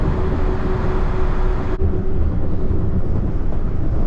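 Steady rumbling and rattling from inside a moving train near Tokyo, a continuous loud ride noise with a faint whine early on and a brief dip midway, and no talk.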